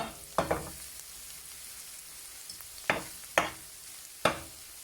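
Egg omelette with minced pork frying in a pan, heard as a low background sizzle broken by four or five sharp, close scraping or stirring strokes spaced irregularly, with no voices.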